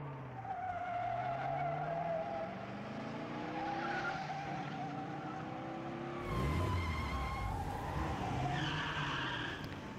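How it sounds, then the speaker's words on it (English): Race cars at a Grand Prix start on a rain-slicked circuit, loud tires squealing and skidding as engines rev and pull away, a sustained screech with a fresh burst of wheelspin near the end. "Tires squealed, struggling to grip the rain-slicked asphalt"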